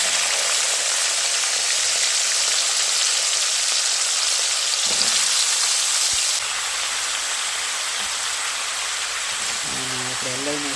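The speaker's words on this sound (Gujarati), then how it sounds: "હવે એમાં નાખ્યા છે આપણે સક્કરિયા" Sweet potatoes fry in a pan with curry leaves, giving a steady broadband sizzle that holds at an even level throughout, with a brief low voice near the end.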